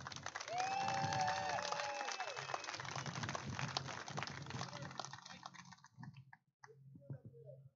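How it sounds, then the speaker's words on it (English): Applause rises from the event audience at a 3WallBall Hall of Fame and Color Guard presentation in Las Vegas, strongest early on and then thinning out to scattered claps. "how about a round of applause for all of you that are here?"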